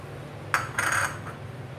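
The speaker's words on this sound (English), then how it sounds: "Mix everything together." Spoon clinking against a bowl while mixing a bread pizza topping, a few short clinks and a brief scraping rattle, close and fairly quiet with no talking.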